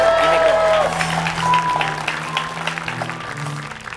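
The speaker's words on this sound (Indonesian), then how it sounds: "tepuk tangan untuk Mal Jupri." A studio audience at an Indonesian talk podcast applauds a guest's entrance, clapping under music and other sounds throughout, and the applause tapers off toward the end.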